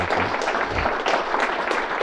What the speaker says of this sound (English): So how about a round of applause for Mr.